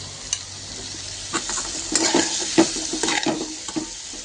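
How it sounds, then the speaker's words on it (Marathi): Soaked sago is stirred into a frying potato mixture with curry leaves, a close crackling sizzle broken by repeated spatula scrapes and clinks against the pan, with no voices. "साबुदाणा छान मिक्स करून घेऊया."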